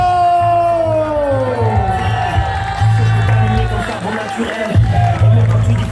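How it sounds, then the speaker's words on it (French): A wrestling crowd roars and cheers for the winning wrestler, a steady loud wash of voices with whoops rising over it, while a commentator talks throughout. "On peut encore l'applaudir."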